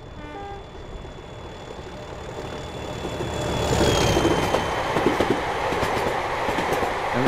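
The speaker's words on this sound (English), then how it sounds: "we'll do a cold start on this train" A train powers up from a cold start in a train simulator game: steady tonal hums and a rising mechanical drone build into a louder rumbling, clattering rail noise, with no talk.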